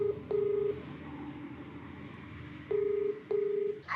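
Keypad tones of a phone being dialed for a call: three short steady beeps, separated by pauses, sound close and clear over faint room hiss.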